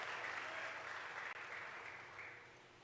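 A church congregation gives brief, faint applause that fades gradually over a few seconds.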